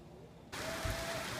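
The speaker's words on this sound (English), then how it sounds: "They were not joking about this rain." Heavy rain pours down outside, a steady broadband wash that suddenly swells louder partway through and stays dense, with a faint tonal whine over it.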